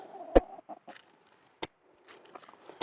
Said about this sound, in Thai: ปล่อยไก่ออกหากินจ้ะพี่น้อง